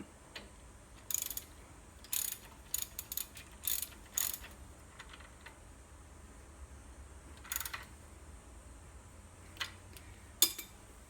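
Rapid metallic ratchet clicks from tightening the coilover collar on the rear suspension of a BMW E70 X5, coming in repeated short bursts of cranking with pauses, close and moderately loud.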